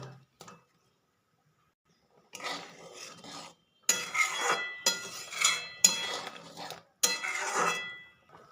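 Pieces of fried paneer go into a simmering milk-and-spice gravy in a cooking pan, giving several close bursts of clattering, scraping and stirring with no talk.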